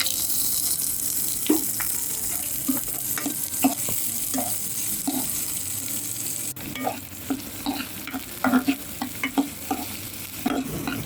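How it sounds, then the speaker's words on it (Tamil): Twenty small onions frying in oil for a mutton gravy, with a steady close sizzle and repeated scrapes and knocks of a spoon stirring through the pan. "ஆனியன் நல்லா ஃப்ரை ஆகிடுச்சு."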